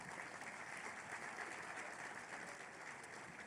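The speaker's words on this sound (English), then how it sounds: "Give yourselves a round of applause because you look good this morning." A breakfast audience applauds, steady dense clapping at a moderate distance holding evenly for the whole stretch.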